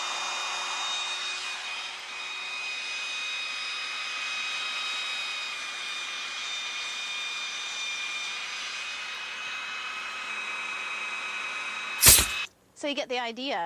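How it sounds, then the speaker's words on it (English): A belt sander clamped to a table shapes a wooden chair rung with a steady, close whirring drone; it ends in a sharp scrape, and someone briefly speaks afterwards. "This is a belt sander, and it's clamped onto the table here."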